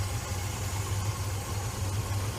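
Chevy Caprice 9C1 engine idling down, a steady low rhythmic rumble with a slight pulsing lope, close and continuous, with no talking.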